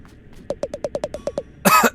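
A character in the video game Another Crab's Treasure coughs in a quick run of about nine short, even hacks, then gives a final louder, rougher burst, close and alone.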